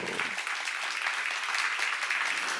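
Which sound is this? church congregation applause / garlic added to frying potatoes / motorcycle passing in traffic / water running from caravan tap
church congregation applause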